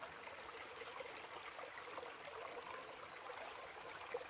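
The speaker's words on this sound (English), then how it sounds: "this is my creek at the back of my property. And usually it does not run like this." A fast-running backyard creek swollen after heavy rain rushes steadily and loudly up close, a continuous broadband wash of water with no voices.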